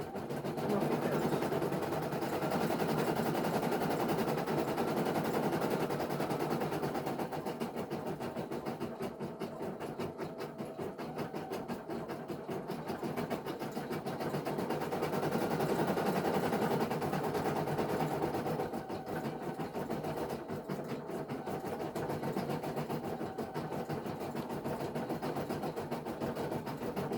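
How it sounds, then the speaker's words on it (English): A computerized sewing machine stitches a leaf design, its steady motor hum and needle chatter running continuously and fairly loud for the whole stretch, with slight swells and no talking. "if I push that green button, hopefully it will sew that part and it'll make a noise"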